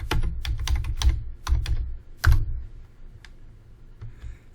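Computer keyboard keys tap out commands in a terminal in quick irregular bursts of close, crisp clicks with short pauses between them.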